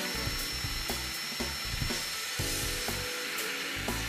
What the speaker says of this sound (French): Ils sont montés à l'aide de vis taraudeuses que vous vissez directement dans les profilés en aluminium.